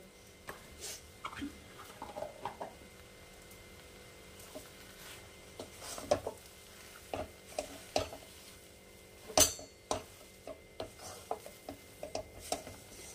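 Fried spice mix being stirred into a vegetable chop filling, Kolkata street-food style, with irregular scraping and rubbing strokes of a spoon against the pan, fairly quiet and close, no talking.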